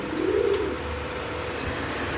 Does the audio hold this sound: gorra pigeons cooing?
yes